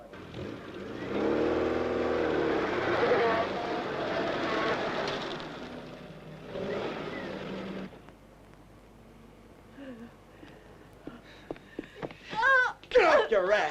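A police commissioner's car idling and revving with a steady engine drone and rising whine, followed by quieter stretches with scattered clicks and thumps, mixed with voices talking.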